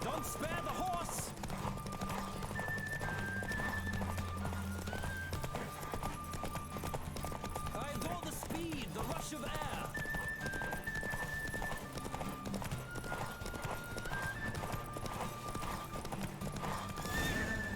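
Steady galloping hoofbeats from a horse race in The Witcher 3 video game keep a fast rhythm throughout, with repeated neighs and whinnies and a layer of game music underneath.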